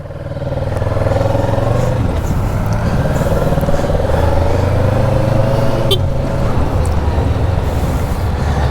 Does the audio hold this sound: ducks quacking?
no